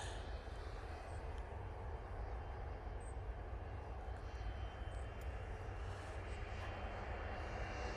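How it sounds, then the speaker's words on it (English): An ATR turboprop airliner begins its takeoff roll at Manchester Airport in low visibility, a steady broadband engine roar holding at moderate, distant level throughout with no voices. "And that ATR now on the roll."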